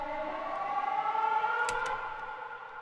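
Storm siren from the video game Pacific Drive, heard distant and reverberant: a sustained wavering tone with a long ethereal tail, faint and steady, with two brief bright clicks partway through.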